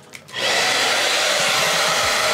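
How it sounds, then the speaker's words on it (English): After a brief quiet moment, a hair dryer switches on and blows with a loud, steady whooshing hum close by. "I'm gonna take my blow dryer"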